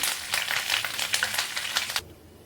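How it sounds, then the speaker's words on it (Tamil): Curry leaves crackle and sizzle in hot oil for a crunchy mixture snack, a dense bright spattering hiss with popping bursts that cuts off abruptly near the end, close and alone. "கருவேப்பிலை நல்லா பொரிஞ்சிருச்சுங்க, எடுத்துடலாம்"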